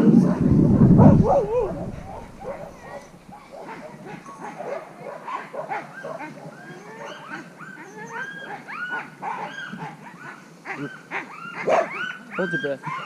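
Several sled dogs bark, yip and whine in an excited, uneven chorus, fairly close, with brief talking at the start.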